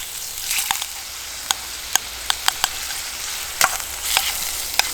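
Chicken teriyaki fries in sesame oil in a heavy-bottomed stainless skillet over campfire coals, a close steady sizzle broken by sharp pops and crackles, with no talking.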